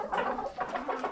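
Backyard chickens cluck in a steady run of soft, overlapping calls, close by and continuous with no other voices.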